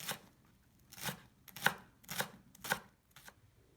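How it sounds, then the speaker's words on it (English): A knife chopping partially cooked shrimp into very small pieces on a board for Ebi Chili, heard as about six soft, evenly spaced cuts close by in a quiet room. "you can actually cut very small pieces like this"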